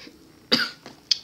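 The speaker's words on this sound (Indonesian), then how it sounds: "mohon dimaklumi kalau gua agak batuk-batuk" A person coughing nearby, one strong harsh cough followed by two smaller throat-clearing coughs in quick succession, set against a quiet background.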